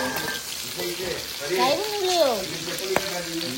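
Turmeric frying in hot oil in a pan, a steady broadband sizzle with stirring, while a voice speaks briefly over it.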